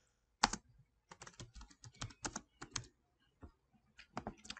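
Customer details typed on a computer keyboard at a point-of-sale system, close crisp key clicks in short irregular bursts with brief pauses, alone with no talking.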